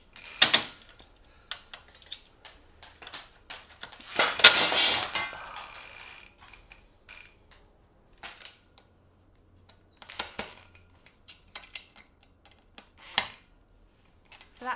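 A metal staging frame being tightened up with a spanner, giving scattered metallic clinks and ratcheting clicks, with one longer burst of clattering midway and sharp isolated taps later, fairly close with quiet gaps between.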